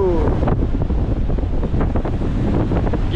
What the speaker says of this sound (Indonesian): Sangat-sangat kuat lah angin dia.